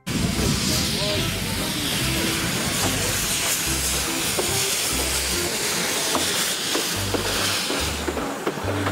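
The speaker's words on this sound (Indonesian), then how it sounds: "Kereta Thomas." Steady loud hissing like a Thomas toy steam train letting off steam, continuous throughout, with faint chugging and rumbling underneath.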